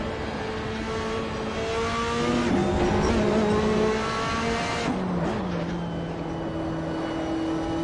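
A Porsche race car engine in the Assetto Corsa racing game holds a loud, steady drone with rising and falling revs and gear-change dips, running continuously with no talk.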